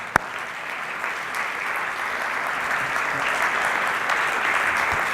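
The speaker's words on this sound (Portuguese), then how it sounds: "E pode dar um aplauso ao Senhor" A church congregation claps for the Lord after a sermon call, dense sustained applause from many hands, loud and close, with one sharp clap at the start and no speech.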